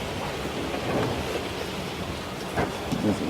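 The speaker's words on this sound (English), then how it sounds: "it starts to rain" Rain beginning to fall outdoors, a soft steady patter spread across the clip with a couple of slightly louder bursts near the end, fairly faint and with no one talking.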